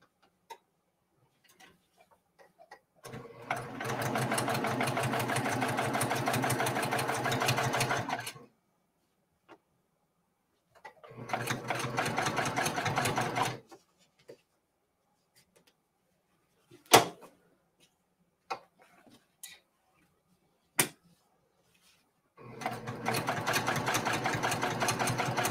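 An embroidery machine close to industrial grade stitches a quilt. It runs in three loud, steady whirring bursts of several seconds each, separated by quiet gaps with a few sharp clicks.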